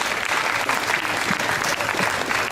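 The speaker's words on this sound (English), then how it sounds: "Another round of applause for all these guys" A conference audience applauds a panel on social media and online storytelling in Los Angeles, a dense, even burst of clapping from the whole room, close and loud, with no talk over it.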